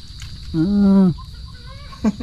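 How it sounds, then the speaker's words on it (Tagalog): A laying hen gives one loud, drawn-out, harmonic cluck close by, followed by a softer short call and a brief second cluck, against a low steady hum. "Dalawang manok ang nangingitlog dyan."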